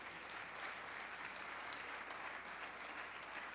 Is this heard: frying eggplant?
no